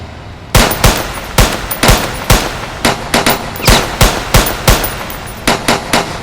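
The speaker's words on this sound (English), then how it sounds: "they're shooting at us!" Rapid bursts of machine gun fire ring out in a DC Joker fan film: loud, close volleys of automatic shots in uneven clusters, with no talk over them.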